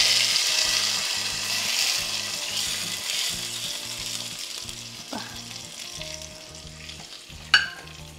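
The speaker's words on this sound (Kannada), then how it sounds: "ಈಗ ಈ ತುಪ್ಪದ ಒಗ್ಗರಣೆ ಇದಕ್ಕೆ ಹಾಕ್ತಾಯಿದ್ದೀನಿ" Hot ghee tempering poured into a spring onion curry sizzles and crackles loudly at first, then fades to a softer hiss, with a low pulsing hum underneath and two sharp metallic clinks.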